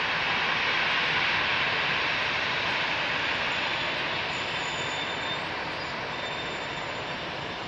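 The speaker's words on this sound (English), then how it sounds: "BA 777s approaching" A British Airways Boeing 777 airliner approaching Heathrow runway 27R: a loud, steady, broad jet roar holds for several seconds and fades slightly toward the end, with no talk.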